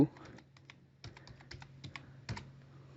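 Fingers type a password on a computer keyboard, a quiet, close run of irregular key clicks with short pauses between bursts.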